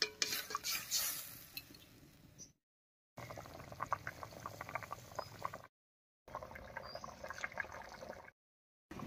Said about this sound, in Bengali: বেশ কিছুক্ষণ রান্না করে নিয়েছি, বলক উঠে গেছে